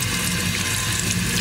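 A kitchen tap runs steadily over peeled potatoes being rinsed, giving a loud, even rush of water with no break for the whole moment.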